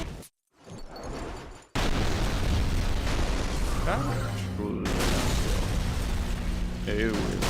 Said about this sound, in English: I don't know if that second explosion does much, though.